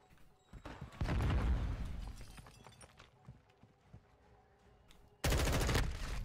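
Gunfire in Modern Warfare 2: a dense burst of automatic fire, then scattered lighter shots and clicks, then another loud sustained burst, with faint voices now and then.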